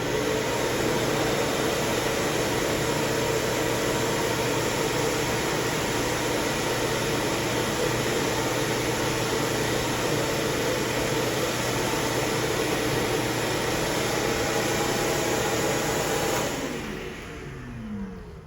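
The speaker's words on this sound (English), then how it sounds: "So now, instead of the vacuum pulling things down," A vacuum blower with its airflow reversed to blow air out, a steady loud broadband whoosh of rushing air with a motor hum, continuous and close, cutting off near the end.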